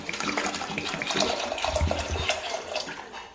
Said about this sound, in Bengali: এই দেখো, বেশি জল দিলাম না, ঠিক এইরকম আমি জলটা দিলাম